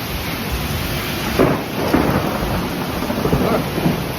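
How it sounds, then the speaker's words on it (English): A steady roar of heavy rain and hail pelts surfaces during a severe thunderstorm in Midtown, a dense, loud hiss with a few low rumbles of thunder rising through it. "It's literally hailing."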